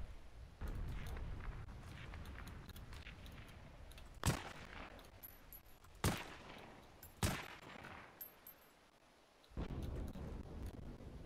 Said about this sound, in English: Hearing a lot of shots from across.